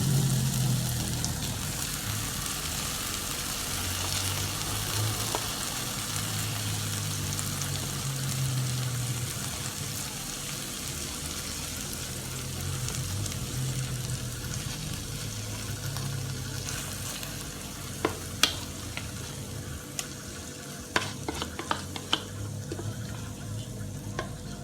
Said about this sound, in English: I'm going to go ahead and add my shrimps.